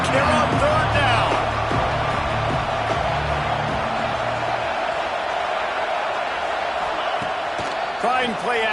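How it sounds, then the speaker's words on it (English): A steady, loud crowd roar fills a stadium in a college football video game during Missouri State against Auburn on third down. It stays continuous throughout, with a commentator speaking over it. "This Auburn crowd trying to conjure up a little magic here on 3rd down."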